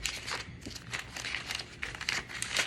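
Notebook paper holding plate tectonics notes is folded up, giving a steady run of close, crinkly rustles and soft crunches that carry on without a break and without any voices.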